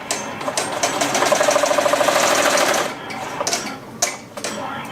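A Melco Bravo X embroidery machine running at 800 stitches a minute sews a placement stitch on a patch, a fast, even mechanical clatter for about three seconds before it stops, followed by a few clicks and knocks.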